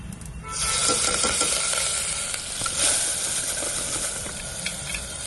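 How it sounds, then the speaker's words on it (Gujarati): Cumin seeds dropped into hot oil burst into a loud, dense sizzle that swells within the first half second and hisses on steadily up close, with faint spatula scrapes and no talking. "આપણે તેલ ગરમ થઈ ગયું છે. જીરું નાખવાનું છે."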